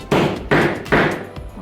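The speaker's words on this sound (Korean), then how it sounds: "그 부분에 따라서 목타를 치겠습니다." A mallet strikes a diamond pricking iron into fairly thick leather for a handmade smart key case. Three sharp, close, evenly spaced blows ring out, followed by a fainter tap.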